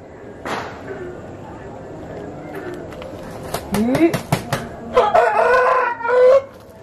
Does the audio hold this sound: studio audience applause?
no